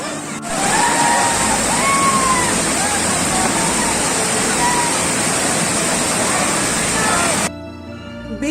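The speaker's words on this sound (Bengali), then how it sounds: "তোপচাঁচির লক গেট দিয়ে জল ছেড়েছে।" Water released through the lock gate of Topchanchi lake rushes in a loud, continuous roar, with voices faintly audible over it before it cuts off near the end.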